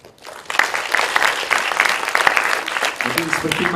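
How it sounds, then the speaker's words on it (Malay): Students in an audience applauding at a university alumni talk about engineering life, a swell of full clapping that rises quickly and continues steadily, with a voice appearing near the end. "marilah sama-sama kita berikan satu tepukan yang gemuruh"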